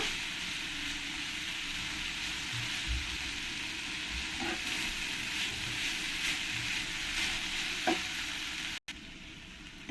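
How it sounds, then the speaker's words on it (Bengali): Cabbage stir-fried with grated coconut in a frying pan, a steady low sizzle with occasional soft scrapes of stirring, close but fairly quiet, ending with a brief dip and a knock. "এই কোড়া নারকেলটা দিয়ে দেব দিয়ে ভালো করে একবার নেড়ে দেবো"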